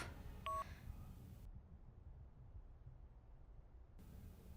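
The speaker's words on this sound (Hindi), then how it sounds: "ये राहुल का फोन क्यों नहीं लग रहा?" A phone call fails to connect: a short burst of electronic dialing beeps rings out near the start, then the line falls quiet and hisses faintly with no answer.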